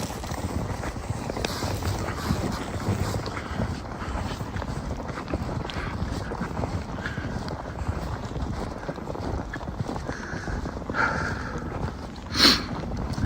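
Steady broadband rush of a river mixes with a distant wash of interstate traffic, faint and continuous outdoors with wind, with a brief louder burst near the end.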